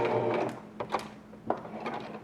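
Sewing machine back stitching on a fabric mask, heard as a few short bursts of quick mechanical stitching separated by brief pauses, fairly quiet and close.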